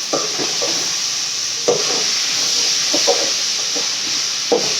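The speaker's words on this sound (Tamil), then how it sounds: "நல்லா தக்காளி வதங்கட்டும்" Onions and tomatoes sauté in a pan with a loud, steady sizzle throughout, punctuated by several sharp scraping stirs of a spatula against the pan.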